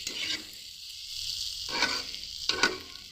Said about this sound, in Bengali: মশলার সাথে আলুগুলো নেড়ে নেব